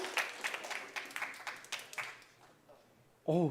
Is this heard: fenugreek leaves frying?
no